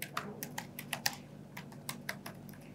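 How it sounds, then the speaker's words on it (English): Fingers type on a computer keyboard in an irregular series of soft, close keystrokes with small gaps between bursts, quiet against a faint room hum. "So let me type this."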